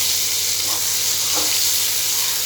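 Eggplant slices fry in hot oil in a home kitchen, a steady close sizzle with a couple of soft stirring scrapes, no voices.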